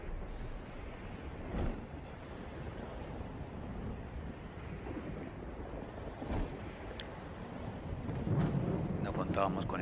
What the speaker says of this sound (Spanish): no contábamos con esta tormenta